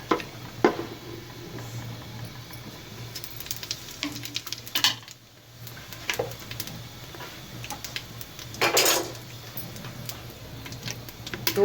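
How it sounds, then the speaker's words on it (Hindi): Spices and cumin seeds crackle as they fry in a pot for shahi gosht gobhi, a soft steady sizzle broken by scattered ticking pops, a brief lull, and a louder burst of spitting later. "मसाले ये भुन चुके हैं, आवाज़ें आने लगी हैं इनमें से फड़फड़"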